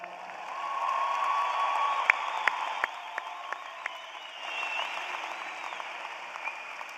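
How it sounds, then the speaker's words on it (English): Business school commencement audience applauds the graduating class in a large hall, a sustained wash of clapping with scattered sharper claps and faint cheers, swelling early and again later. "we would like to say congratulations to the class of 2022. Yeah, you can applaud."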